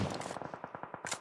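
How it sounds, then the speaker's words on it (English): Rapid automatic gunfire in PUBG Mobile during a Philippines PMPL qualifier esports match, a steady burst of about a dozen evenly spaced shots, moderately loud and heard without talk. "Gunfire coming in from Manta Boy."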